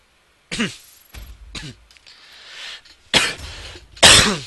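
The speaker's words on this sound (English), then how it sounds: "something just made me want to cough" A person coughs and clears their throat several times in close, loud, harsh bursts separated by short pauses, with one rough clearing in the middle and two strong coughs at the end.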